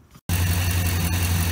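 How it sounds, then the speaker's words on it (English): Ford car engine idling after a brief silent gap, a steady low hum with a constant rough throb, close and even for the rest of the clip, no voices. "All right, so the engine's running now."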